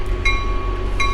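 A passing train rumbles steadily in the background, low and continuous, with two short brighter bursts of metallic noise about a second apart.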